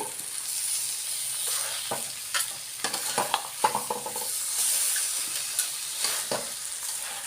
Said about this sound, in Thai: ผัดให้มันให้มันถึงแปดนาทีนะคะ